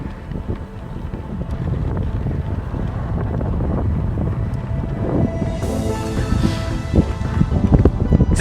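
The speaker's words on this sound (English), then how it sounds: "It's very windy, so I'm wondering how the audio is actually going to come through." Strong wind buffeting an Insta360 Ace Pro action camera microphone while cycling near Galena below Mount Rose, a loud, continuous low rumble with gusty surges that build toward the end.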